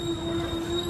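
A metro train runs through Qianmen station in Beijing, giving a loud, steady rumble with a sustained high wheel squeal and no voices.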